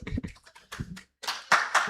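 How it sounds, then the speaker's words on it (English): A speaker's voice briefly, then an audience at a conference of women entrepreneurs starts clapping for a speaker, the claps swelling into dense, fairly loud applause over the last second. "Let's give her a clap,"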